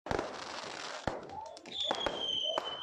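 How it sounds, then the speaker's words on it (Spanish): Fireworks crack and pop at a funeral wake for a fan of Universidad de Chile, with a whistling rocket rising near the end, heard under a news reporter's voice. "Fuegos artificiales y los cantos de parte de la barra de Universidad de Chile marcaron su velorio."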